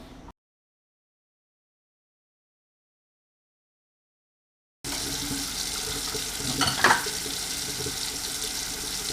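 Tap water streams into a pan for boiling, a steady splashing rush that starts abruptly after a silent pause and continues close up without talk.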